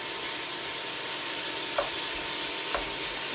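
Ground hamburger browning in a pan with onion and garlic gives off a steady, even sizzle, with a couple of faint scraping clicks from stirring partway through.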